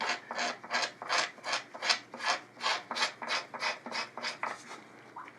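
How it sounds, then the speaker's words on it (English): Steady rhythmic scraping, about a dozen even back-and-forth strokes of a razor blade rasping across hardened glue on a guitar surface, levelling it, close and fairly loud. "I can come across the top of it and scrape this right down level with my surface"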